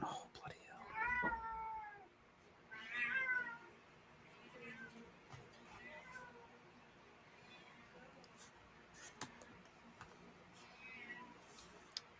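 A cat meows repeatedly, with two clear drawn-out cries early on and fainter mews after, over low background noise in a quiet indoor space.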